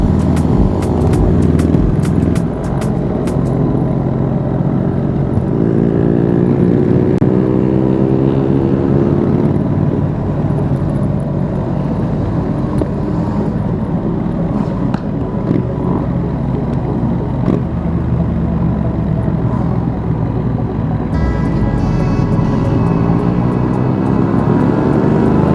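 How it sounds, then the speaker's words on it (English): A large pack of motorcycles riding together at a bike meet, engines roaring continuously and loudly up close, revs rising and falling as bikes pass and accelerate, with no talk. "So many bikes, man."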